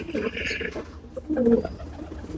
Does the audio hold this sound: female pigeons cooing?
yes